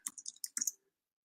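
Quick, light clicks of typing on a computer keyboard into a search bar, about eight close, crisp keystrokes in an uneven burst that then stops into silence.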